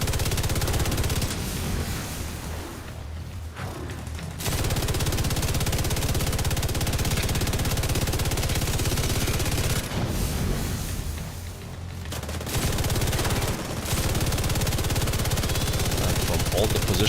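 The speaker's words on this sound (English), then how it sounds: "Why am I the only one shooting at that one?" Sustained gunfire in The Division 2, a dense, loud wash of automatic shots that runs almost without pause, dropping briefly twice, with game noise underneath.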